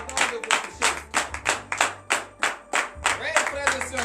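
A church congregation at a morning prayer service in Benin claps in fast, uneven bursts, with cheering voices rising underneath, loud and close throughout.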